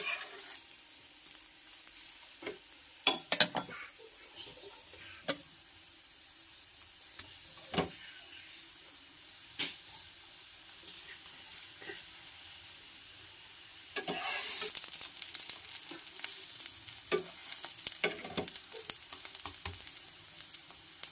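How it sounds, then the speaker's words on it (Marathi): Aloo paratha roasting on a hot griddle gives a quiet continuous sizzle with scattered scraping taps of a spatula, the sizzling swelling louder and busier toward the end. "तर अशाच प्रकारे आपल्याला छान असा पराठा भाजून घ्यायचा आहे।"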